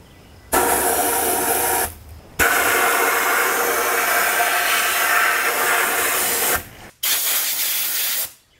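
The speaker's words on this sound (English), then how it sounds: "and now I'm ready to start blasting." Compressed-air sandblasting of a steel housing inside a closed blast cabinet: a loud, steady broadband hiss running in three long bursts separated by brief pauses.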